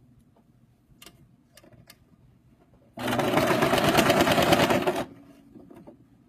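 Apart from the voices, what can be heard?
sewing machine back stitching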